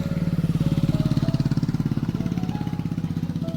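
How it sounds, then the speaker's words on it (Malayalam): Motorbike engine chugging close by on a hill road in Iravikulam National Park, a loud, steady rapid thumping that holds throughout without fading, no clear talk. "ബൈക്കിലൊക്കെ ആൾക്കാർ പോകുന്നല്ലോ."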